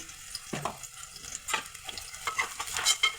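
Goat head curry is stirred in a frying pan after turmeric is added, irregular scraping strokes of the spoon over a low sizzle, close and fairly quiet with no talking.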